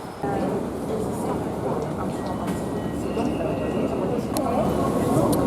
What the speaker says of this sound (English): The trains leave about every 10 minutes to Haarlem.